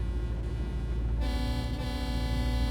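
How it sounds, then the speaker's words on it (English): A truck horn in Euro Truck Simulator 2 blares in a single loud sustained blast over a low engine rumble, starting partway through and holding to the end. "here's my other horn, and here's my regular Go on horn"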